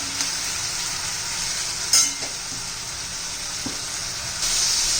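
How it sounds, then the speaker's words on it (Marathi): Tomatoes for a cauliflower curry sauté in a pan, a steady bright hissing sizzle that runs throughout, punctuated by a couple of brief spoon taps and scrapes, close and without voices. "आपण टोमॅटो परतणार आहोत"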